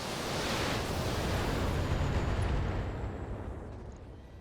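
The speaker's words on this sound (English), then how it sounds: "Firing full complement." Mech weapons fire and explosions in the BattleTech video game, a loud, broad roaring blast that swells early and holds before slowly fading, with no voices.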